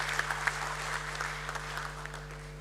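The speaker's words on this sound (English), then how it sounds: "Can we have a thunderous round of applause?" Audience applause at a stock exchange listing ceremony, moderate clapping from a seated crowd over a steady electrical hum, with a few sharper individual claps standing out.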